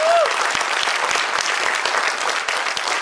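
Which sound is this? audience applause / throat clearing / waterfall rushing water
audience applause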